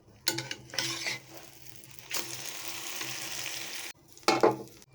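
Vegetable and egg mixture frying in a pan on a stove, a hissing sizzle broken by a few louder clatters of utensil against pan, then a short gap before another burst of scraping, close by.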